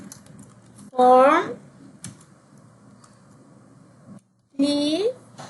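Quick clicking keystrokes on a computer keyboard while filling in a Google Form, soft and close, interrupted by bursts of speech.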